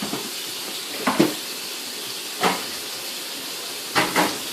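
Scallops sizzle in a hot pan with a steady, fairly loud hiss, broken by a few sharper spits and bursts spaced roughly a second or more apart.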